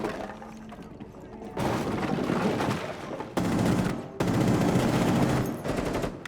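Bursts of LMG machine gun fire from the video game Rainbow Six Siege in T-hunt mode, several loud rapid-fire volleys separated by brief pauses, with a person talking alongside.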